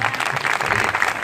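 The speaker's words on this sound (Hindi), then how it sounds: "जोरदार तालियों में बजाया बताया।" Brief burst of audience applause from a crowd at an orientation session, dense steady clapping lasting about a second.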